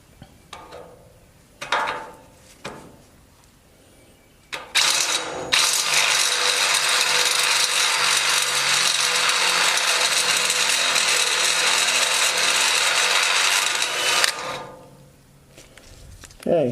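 A drill with an oiled bit bores a hole during subframe work on a Ford F250 restoration, with a loud, steady grinding whine for about nine seconds after a few short starts, then winding down.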